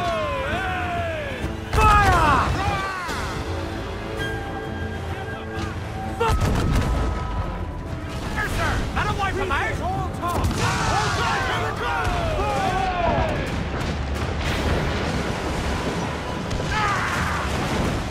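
Cannon fire booms out during a pirate ship battle in the video game Assassin's Creed 4 Black Flag, with repeated heavy blasts over dense battle noise, shouted voices and music across the whole stretch.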